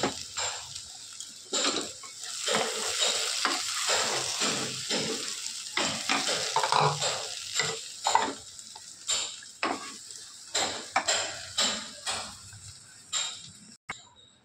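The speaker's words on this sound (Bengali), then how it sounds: "ভালো করে একটু নাড়াচাড়া করে নামিয়ে নেব" A spatula stirs thick ash gourd curry with sun-dried lentil dumplings in a pan, producing repeated scraping strokes in a steady rhythm over a soft sizzle, close and fairly quiet.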